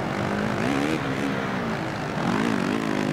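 A motocross bike engine in the MXGP game, heard from a first-person view, dropping to second gear. It gives a steady buzzing drone whose pitch rises and falls as the revs shift, close and continuous.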